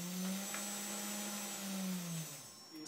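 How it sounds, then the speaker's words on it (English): A small DC motor on a 555-timer PWM speed controller whines steadily, its pitch gliding up then easing back as the speed is varied, with a thin high tone above, close and alone without talk. "I'm going to spin up this motor."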